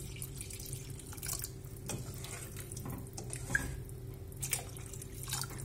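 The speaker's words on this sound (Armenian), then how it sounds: "հիմա սրան մի փոքր էլ ջուր ենք ավելացնում" Water is poured from a tap into a pot of beans and potatoes for a red bean stew, a soft running trickle with faint drips, fairly quiet against a steady low hum.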